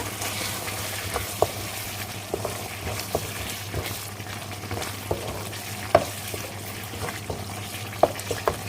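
Continuous crackling sizzle of rendang spice paste frying in hot oil, with occasional scraping stirs and small pops, close up and without talk.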